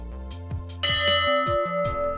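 The Abana Bell, a church bell at St Andrew, Cleveleys, gives a few clear tolls that ring on with long sustained tones and overlapping strikes, close and resonant.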